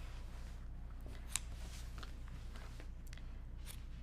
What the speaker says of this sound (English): And then I cut a triangle on the corner so there's no bulk.